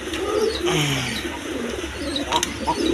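Bombay pigeons, a pair including a black one, coo in low, soft repeated calls close by, with some faint chirps and background noise around them.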